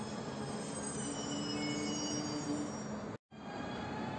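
A commuter train pulls out of Warszawa Reduta Ordona station with a steady rolling rumble and a sustained high wheel squeal. The sound cuts out briefly near the end and then returns.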